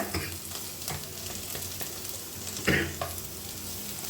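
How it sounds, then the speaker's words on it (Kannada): Grated coconut sizzles steadily as it fries in a pan for coconut rice, with a spatula stirring and scraping throughout and one brief louder scrape near the end. "ಸ್ವಲ್ಪ ಚೆನ್ನಾಗಿ ಫ್ರೈ ಮಾಡ್ಕೊಳ್ಳೋಣ."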